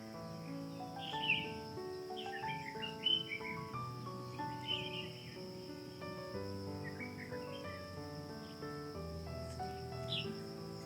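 Birds chirp and sing around a park pond with a fountain at sunrise, with soft scattered calls over a faint steady insect-like hum, distant and quiet throughout.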